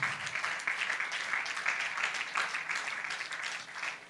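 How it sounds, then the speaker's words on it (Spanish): Church congregation applauding during a service, a soft, steady patter of many hands clapping at some distance, continuous for a few seconds with no voices over it. "Tú estás aplaudiendo"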